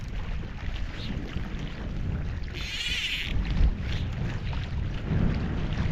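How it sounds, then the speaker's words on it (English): Gusty wind buffets the microphone outdoors in trout country on a backcountry fishing trip, a loud rough rumble that swells and eases throughout, with a brief hiss in the middle. "Wind isn't letting up."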